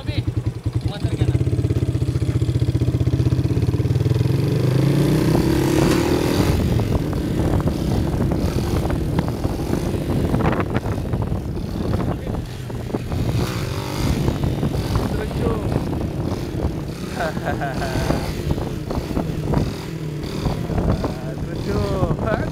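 A motorcycle engine revs hard and roars steadily during a 200-meter wheelie run, loud and close with wind buffeting, as people talk over it.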